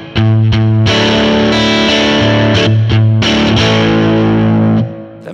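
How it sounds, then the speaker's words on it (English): A JM Jag electric guitar is driven hard through a Native Audio Rising Sun optical tremolo pedal used as an overdrive preamp, giving loud, dirty, distorted chords that ring close, change several times and then cut off. "I'll gun it so we can have a listen to how much drive it's going to inject."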